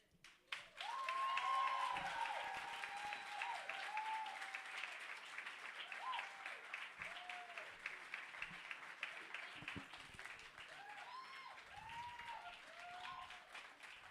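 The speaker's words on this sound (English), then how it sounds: "I know you're not clapping for me, but yeah, thank you" Crowd applause at a festival welcome ceremony swells quickly and carries on for many seconds, gradually thinning into scattered claps, with faint voices and whoops rising over it.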